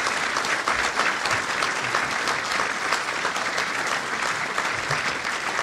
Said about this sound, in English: You did clap after I was done.